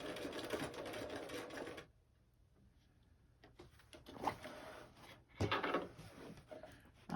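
Sewing machine stitching a lunch bag seam, running in a steady whir, stopping for a pause, then starting again in short bursts with light mechanical clicks.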